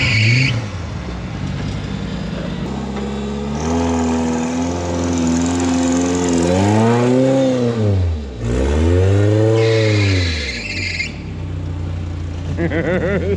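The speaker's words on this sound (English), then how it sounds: "That's a 5-cylinder turbo Volvo with apparently" A 5-cylinder turbocharged Volvo engine of around 300 horsepower revs hard on a steep rocky off-road trail, loud and close, its pitch sweeping up and down in repeated throttle surges.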